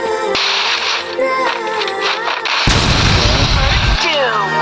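Gunshots from the Free Fire video game crack out in a loud, dense burst partway through, over a continuous bed of game music and effects with some voice mixed in.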